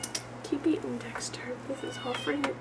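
A cat yowls and meows in drawn-out wavering cries in the background while a person talks close by.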